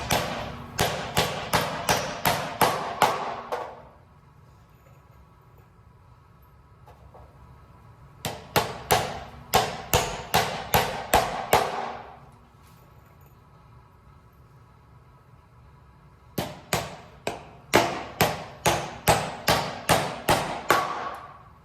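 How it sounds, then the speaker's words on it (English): Hammer driving nails into wood while framing near a floor joist, in three bursts of about eight to ten sharp, evenly spaced blows each, separated by quiet pauses. "I'm going to put a nail within either side of this, within 2 inches."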